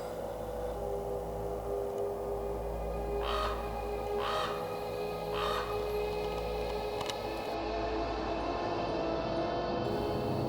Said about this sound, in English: When you hear it cawking like that, that very well could be a raven.